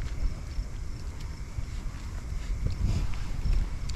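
Steady wind buffets the microphone in a low rumble, with faint background clatter and no voices.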